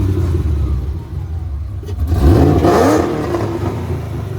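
Supercharged Ford Mustang V8 with SLP or Borla exhaust revving hard: a steady idle rumble swells into a rising rev sweep around the middle, then settles back to a loud throaty idle.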